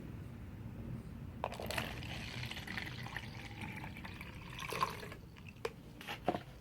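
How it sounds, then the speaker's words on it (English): Phenolphthalein and base poured into a black solution: a steady liquid pour with splashing and a few sharp drips or clinks near the end, close and moderately loud. "We are pouring our phenolphthalein and base into our black solution"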